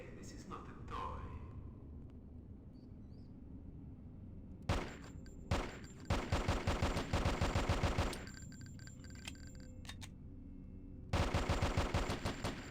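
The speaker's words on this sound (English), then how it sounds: "A fine semi-automatic 9mm pistol." A semi-automatic 9mm pistol fired in a video game, with bursts of rapid, sharp shots echoing, separated by quieter gaps with faint game sounds, loud and close, occasional talking nearby.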